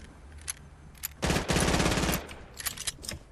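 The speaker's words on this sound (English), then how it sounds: "I'm just shooting something down" Rapid Fortnite gunfire rattles out in a dense automatic burst of about a second, preceded and followed by scattered single shots at moderate distance.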